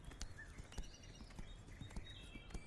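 A horse walking, its hooves giving faint, evenly spaced clip-clops over a steady background hiss.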